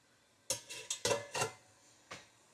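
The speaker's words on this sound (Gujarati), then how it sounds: "સપોર્ટ માટે આપણે એક ડીશ મૂકીએ છીએ" A metal dish is set down inside a steamer for nylon khaman, producing a quick run of close clattering clinks and knocks, then one last tap.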